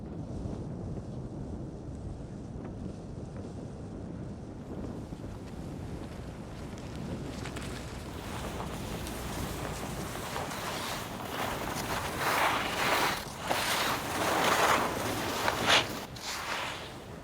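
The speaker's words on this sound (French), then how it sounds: "la météo est pas hyper facile parce qu'il y a beaucoup de vent" Strong polar wind on a solo ski trek toward the South Pole, buffeting the microphone as a low roar that swells into louder, gusty bursts in the second half.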